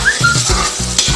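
Bombay duck fish frying in a pan for a Bengali curry, a steady loud sizzle of hot oil broken by a few metallic scrapes and clinks from stirring.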